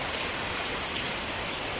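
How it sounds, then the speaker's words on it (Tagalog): Heavy rain falls in General Santos City, a dense unbroken hiss of water that stays steady and fairly loud throughout. "Grabe ang ulan."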